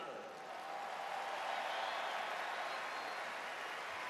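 A sellout crowd applauding at Notre Dame senior day in the football stadium, a broad, steady wash of distant clapping and cheering that holds evenly from start to finish.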